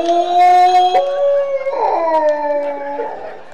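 A man imitates a street dog howling, with long, loud, wavering tonal howls that rise and fall, sliding between pitches in close, continuous stretches.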